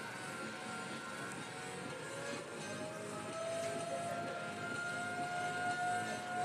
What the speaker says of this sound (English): As the tornado siren goes off in the background, it is not an actual tornado